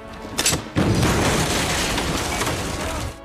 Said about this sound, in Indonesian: bom tersebut meledak